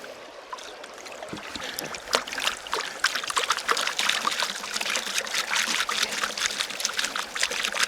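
Water swirls and trickles in a gold pan during panning of heavy black sand, a close, steady sloshing and dribbling that grows a little louder and splashier partway through.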